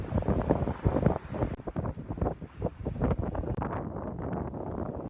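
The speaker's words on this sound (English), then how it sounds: "it's still windy" Wind buffets the microphone in uneven rumbling gusts outdoors in Berlin, loud and close, with no voices.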